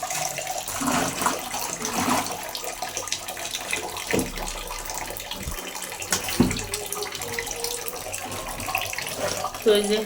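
Tap water running steadily into a bucket, a continuous splashing rush that stays fairly constant throughout, with occasional faint background voices and household knocks.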